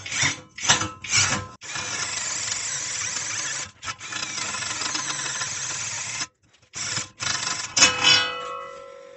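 A compact cordless drill grinds in several bursts, a long steady run broken by short pauses and stops, close and fairly loud.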